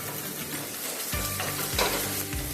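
Garlic and green chillies fry in a pan. A quiet hiss swells into a loud sizzle as they hit the hot oil, followed by repeated stirring scrapes.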